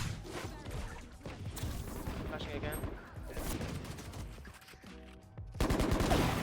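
Gunfire in the video game Deadlock, weapons shooting at a wall, comes as dense, overlapping bursts of shots with impacts, loud and sustained, mixed with other game sounds and some voice-like activity.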